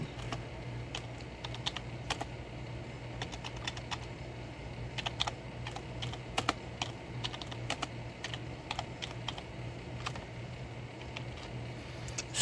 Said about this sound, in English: that's where you're going to manually type in what it is that you want people to be able to read